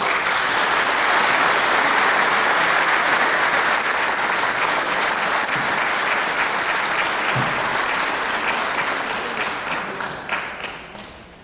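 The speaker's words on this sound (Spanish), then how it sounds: "lo recibimos con este aplauso" A theatre audience applauds to welcome a singer at a regional singers' day concert: dense, sustained clapping from a full crowd that holds steady, then thins and fades out in the last couple of seconds.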